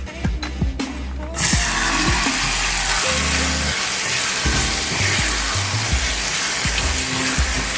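Beans sizzling in a hot pan with salt for a homemade chipotle bowl: a steady, loud frying hiss starts abruptly after a few clinks, with low knocking and stirring thuds throughout.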